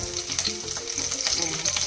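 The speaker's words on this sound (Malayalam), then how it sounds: "കടു പൊട്ടിയാലും കറിവേപ്പില ഇടുക." Curry leaves and mustard seeds frying in hot coconut oil for papaya pickle, a close, continuous crackling sizzle with quick pops and sputters and no voices.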